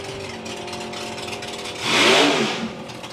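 A drag racing car at a drag strip makes a 9.73-second pass at 138 mph, a loud engine drone that swells into a brief roaring surge and then fades back to a steady distant rumble.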